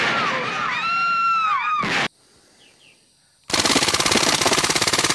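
Machine gun fire from a TAC-10 submachine gun, a loud rapid stuttering burst of close shots that cuts in abruptly after a tonal chirping passage and a short near-silent gap, running continuously to the end.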